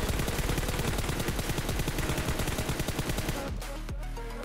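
Rapid automatic gunfire from PUBG Mobile, fired while jumping, with a dense, even stream of shots that cuts off after about three and a half seconds and leaves a few scattered single cracks and game sounds.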